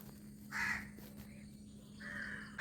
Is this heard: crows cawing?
yes